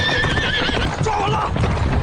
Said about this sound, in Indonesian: Kusir kuda memacu kereta kudanya.